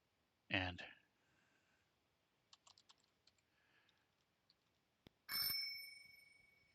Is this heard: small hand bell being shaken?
yes